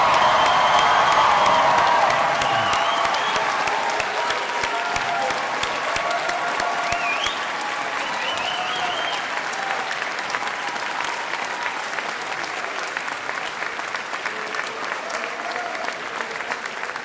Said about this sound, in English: Please stand and applaud our graduates.